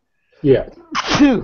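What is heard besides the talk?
sneeze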